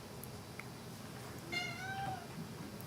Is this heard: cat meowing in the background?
yes